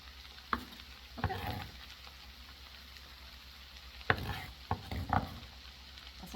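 Onions are stirred into a pan of frying potatoes on a stovetop, giving soft sizzling with several scraping, clattering stirs scattered across the clip.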